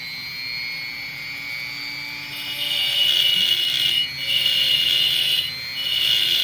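A lapidary saw slowly cutting through amethyst at low RPM gives a steady high whine that grows louder and harsher partway through as the blade bites into the stone, close by, with no voices.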